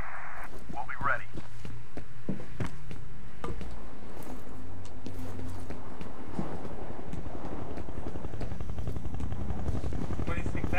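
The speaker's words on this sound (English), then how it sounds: "Bizarre sound effect for a helicopter." Helicopter sound effect from the video game F.E.A.R., a steady droning rotor-like rumble running throughout with scattered thumps and clatter over it.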